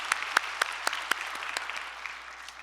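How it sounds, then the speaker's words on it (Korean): A church congregation claps in encouragement during a Sunday service: a few sharp, distinct claps ring out, then settle into a thinner, fading patter. "한번 격려의 박수 한번 부탁드립니다"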